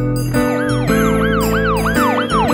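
A police siren wails in steady rising and falling sweeps, loud and close, repeating several times without a break.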